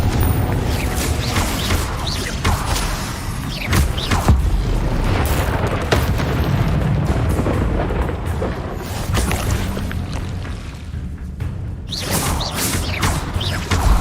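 Confringo fire-blast spells are cast repeatedly in Hogwarts Legacy, making loud, booming explosions with crackling, rumbling tails that roll on almost without pause.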